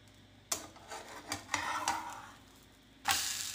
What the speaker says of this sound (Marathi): आता आपली ऑमलेटची एक साईड झालेली आहे आणि आता आपण त्याला पलटी करून घेऊया